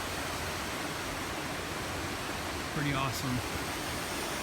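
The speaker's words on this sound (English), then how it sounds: "I think this is Soap Creek, just the upper part where it's melted off, so it's a lot bigger." Steady broadband rush of a large snowmelt-swollen creek, the upper Soap Creek on the Three Sisters Loop Trail, filling the whole stretch at close range, with a man's brief spoken remark partway through.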